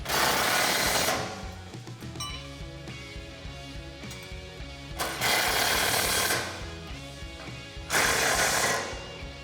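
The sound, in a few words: tightening grille guard bolts with 17mm socket and wrench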